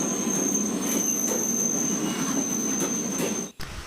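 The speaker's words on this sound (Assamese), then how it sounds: "এয়া আমাৰ ট্ৰেইন পাই গ'লহি" A train rolls into a station on the way to Guwahati, with loud sustained wheel squeal and a steady high metallic whine over rumbling carriages, ending in a sudden drop.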